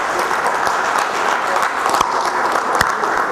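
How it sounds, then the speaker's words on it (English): An audience at a business conclave breaks into a full, steady round of applause, dense clapping from many hands with a few sharper claps standing out. "And a big round of applause."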